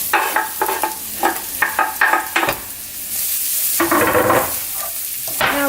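Garlic sizzles in a little hot oil for caramelized prawns in garlic sauce. A burst of quick scraping stirs and clinks gives way to a steady loud hiss, and then stirring resumes.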